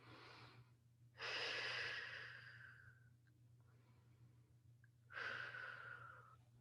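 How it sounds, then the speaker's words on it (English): Two soft, airy breaths drawn in and let out during a calm yoga stretch on the floor, each a gentle broadband rush lasting a couple of seconds, close and quiet over a steady low hum. "take a couple of gentle inhales and exhales here"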